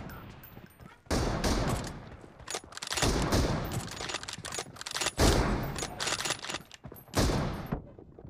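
Gunfire in the mobile battle-royale game BGMI, with loud bursts of rapid automatic shots in several long volleys separated by short pauses, close and dense.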